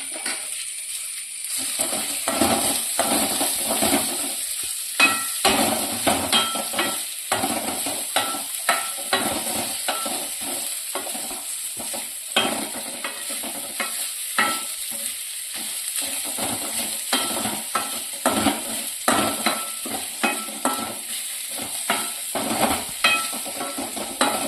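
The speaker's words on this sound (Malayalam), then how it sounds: "ആദ്യം തേങ്ങ വറക്കാട്ടോ. ഇത്തിരി വെളിച്ചെണ്ണ ഒഴിച്ചു കൊടുക്കാം." Coconut pieces fry in coconut oil in a clay pot, with a steady bright sizzle throughout and frequent scraping and stirring clicks of a spatula, close and moderately loud, with no voices.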